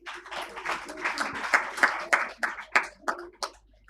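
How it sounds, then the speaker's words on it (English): Applause at a medical association event honouring a surgical faculty member, scattered claps building over speech-like murmur, then several sharp distinct clap bursts that fade out toward the end. "big round of applause for that"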